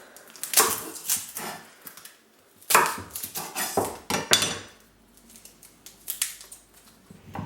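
Garlic being chopped with a knife on a board while making an aduki bean casserole, a run of close, sharp blade strikes in irregular bursts with short pauses between them.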